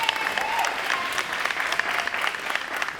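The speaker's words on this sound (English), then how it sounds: "Could you give her a round of applause for her years of service?" An audience at a town hall meeting applauds in a room, a steady wash of many hands clapping throughout, fairly close and even.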